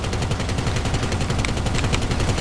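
Rapid, continuous automatic gunfire from a gun in GTA 5, a dense rattling stream of shots that fills the whole stretch at steady loudness with no pauses.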